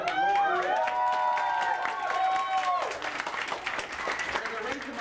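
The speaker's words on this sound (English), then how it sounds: "you're all clapping too early." An audience at a motorsport club interview event at Watkins Glen applauds and cheers with sustained clapping, while a voice rings out over it and the crowd noise eases slightly toward the end.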